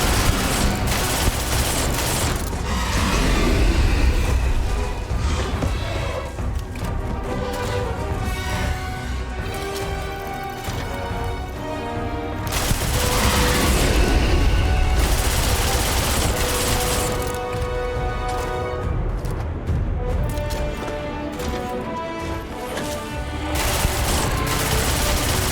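Deleter weapon fire in Starfield, a dense, loud barrage of gunshots and booms running throughout amid busy game sound and music.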